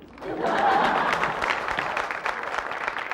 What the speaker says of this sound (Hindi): तालियां बजाना बंद करो